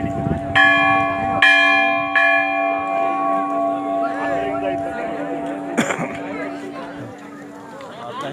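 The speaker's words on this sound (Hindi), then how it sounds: "घंटा ध्वनि करते हुए ले लीजिए।" Temple bells on the Badrinath–Kedarnath pilgrimage are struck three times in quick succession, then once more, each strike leaving a long resonant hum, while a crowd murmurs and chatters nearby.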